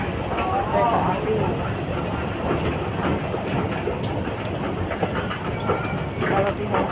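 Busy train station concourse with an escalator leading toward the rail terminal: a constant loud rumble and echoing crowd noise, with voices talking throughout.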